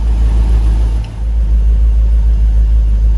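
A Land Rover Discovery engine idles steadily and close by, a low continuous rumble with a slight dip partway through, cold enough that condensation streams from the exhaust.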